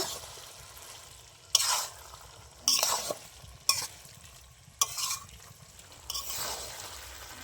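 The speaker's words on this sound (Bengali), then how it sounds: "দিয়ে দেবো হাফ চামচ গরম মশলা আমার বাটা গরম মশলা এটা সব ভালো করে মিশিয়ে নেব" Fish-head curry with katla fish head, cabbage and ground garam masala is stirred in a pan, five distinct scraping strokes spaced roughly a second apart over a quiet, low simmering sizzle, close and moderately loud.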